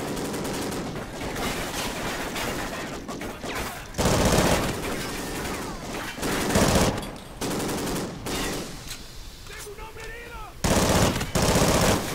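Sustained machine gun fire from the video game Call of Duty Ghosts, loud and close, with dense bursts running almost the whole time, several heavier volleys and brief pauses between them.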